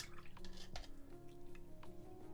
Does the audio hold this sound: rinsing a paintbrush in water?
yes